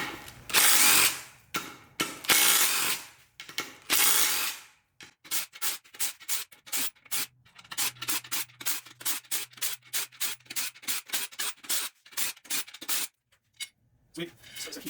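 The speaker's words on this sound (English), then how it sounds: "So I'm going to go ahead and start taking off these beadlock bolts." A ratchet works the beadlock bolts off a go-kart rock crawler wheel built from Jeep Wrangler parts. A loud buzzing burst comes first, then rapid metallic clicking in short repeated bursts, close up.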